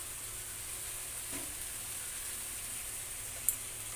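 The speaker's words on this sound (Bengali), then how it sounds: "দেখো মশলাপাতি দিয়ে ভালো করে কষাই নিচ্ছি আস্তে আস্তে করে টমেটো দিয়ে দিচ্ছি" Spices and chopped tomato sauté in a pan, a faint, steady, even hiss of frying that carries on unbroken, with one brief small click near the end.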